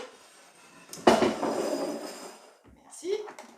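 A salad bowl is handed over and set down in a kitchen, giving a sharp clattering knock followed by a lingering ringing resonance, then a smaller clink, with quiet voices around it.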